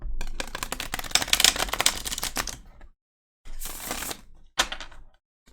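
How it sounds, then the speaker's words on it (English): A deck of tarot cards being shuffled up close, with a long stretch of rapid riffling clicks followed by two shorter bursts after a pause, no talking. "I'm going to start off by shuffling the deck"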